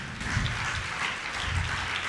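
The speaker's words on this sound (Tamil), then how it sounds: "கைத்தட்டி ஆண்டவரை மகிமைப்படுத்துங்க." A church congregation claps together in a steady, dense patter of many hands that keeps going throughout.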